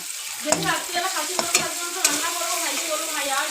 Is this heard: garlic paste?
yes